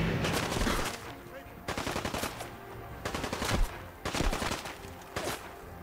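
Bursts of rapid automatic gunfire from a Fallout 4 firefight, several volleys separated by short pauses, loud and close with dense crackling shots.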